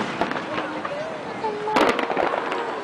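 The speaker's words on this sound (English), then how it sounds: "Fireworks at Niagara Falls." Fireworks burst over Niagara Falls, giving a continuous rumbling crackle with a few louder pops, heard from a distance under a crowd's chatter and voices.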